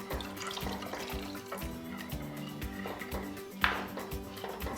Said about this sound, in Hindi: कस्टर्ड मैंने अच्छी तरह मिक्स कर लिया है, तो अब इसमें शामिल कर देंगे दूध में आहिस्ता आहिस्ता करके